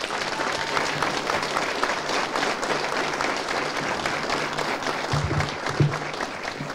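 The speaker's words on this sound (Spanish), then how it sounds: "Yo les pido un fuerte aplauso para la magistrada Barrera." Applause for a magistrate at the inauguration of a judicial complex in San Luis de la Paz, Guanajuato: a steady, moderately loud crowd clapping that continues without a break, with a few louder low thumps near the end.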